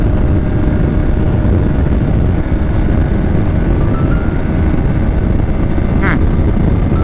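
A Bajaj Pulsar RS200 motorcycle engine heard while riding, a loud continuous drone mixed with heavy wind rush, close and steady, with someone talking over it.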